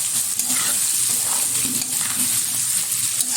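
Chicken with pepper powder sizzles in a frying pan while being stirred, a steady close hiss with soft scraping throughout and no talking.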